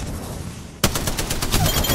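Rapid gunfire erupts suddenly in a video game firefight after a quiet stretch, a dense run of sharp automatic shots continuing loud and close to the end.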